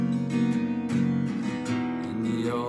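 The chorus of a song played slowly, with a few broad, ringing chords struck about every half second and left to sustain in a warm, full wash, with no talking.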